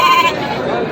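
Goat bleating at the Pambukovil goat market in Kadayanallur, Tenkasi district, a single loud close wavering call at a busy livestock sale.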